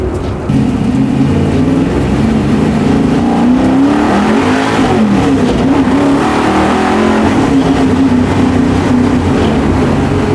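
A 700-horsepower big-block 1964 Ford Galaxie accelerates hard, its loud, deep engine rising and falling in pitch through a sustained pull with a rough exhaust rumble and no talk over it.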